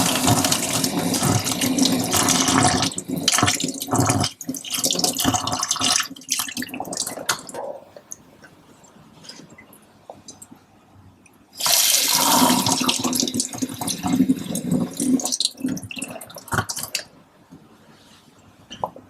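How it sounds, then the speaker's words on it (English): Tap water runs into a sink as a sieve used for hatching brine shrimp is rinsed, loud splashing bursts that stop for a few seconds of quiet, then start again before easing off. "We're gonna rinse this off in the sink and then pour the brine shrimp into this tub."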